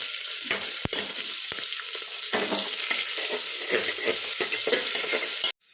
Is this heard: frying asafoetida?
yes